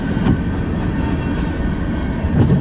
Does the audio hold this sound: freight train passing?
yes